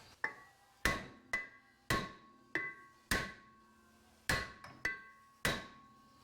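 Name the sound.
hammering on a Subaru Forester brake rotor to remove it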